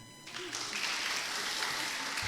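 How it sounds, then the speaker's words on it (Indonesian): Applause breaks out from the congregation at an Indonesian religious lecture, a brief burst of clapping that swells in quickly and holds as a steady, fairly faint wash. "Luar biasa, tepuk tangan."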